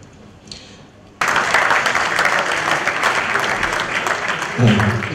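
Loud, dense applause fills a convention hall at a Kavi Sammelan poetry gathering at the NDMC Convention Hall in Delhi. It erupts suddenly after a quiet moment and continues as steady clapping from a large audience.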